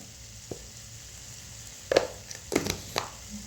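Tamarind and tomatoes fry with turmeric in a pan, a faint low sizzle punctuated by several sharp spoon clatters and scrapes clustered in the second half.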